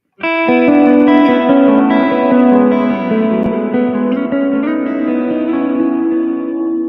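Open guitar strings ring out together in a loud, sustained chord, thickened by distortion, chorus and echo effects, slowly decaying.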